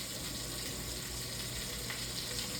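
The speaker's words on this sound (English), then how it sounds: "I'm sorry about all the frying noises" Food sizzles and crackles steadily in a pan, a constant close-up frying hiss with no talking.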